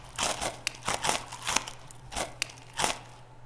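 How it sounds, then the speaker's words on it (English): A rotten apple is eaten in the survival zombie game The Dead Linger, giving a run of sharp, loud crunching bites, about eight crisp crackling chews in quick irregular succession, with no talking. "Oh, that is a crunchy-ass sounding apple."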